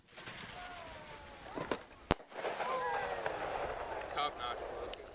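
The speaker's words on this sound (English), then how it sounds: "If this one explodes, it's not near. It's not a bomb, it's a Roman." Fireworks burst outdoors on New Year's Eve, with a Roman candle going off in sharp pops and crackles, one loud bang standing out, while family members chat and whistles rise through the mix.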